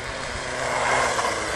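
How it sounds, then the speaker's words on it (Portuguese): A tuned Jato 3.3 car engine rumbles close and continuously, a dense broadband roar with low throb that rises slightly midway, heard alone without talk. "Olha o ronco, velho."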